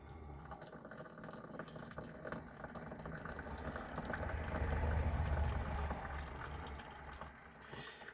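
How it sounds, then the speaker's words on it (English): Stinging nettle tea poured off through a cloth rag makes a steady liquid splash and trickle that swells in the middle and eases toward the end, close and continuous with no talking. "I'm going to try and pour all this off through there."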